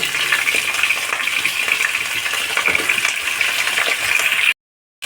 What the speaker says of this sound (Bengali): আমি আলুগুলো হালকা ভেজে নেব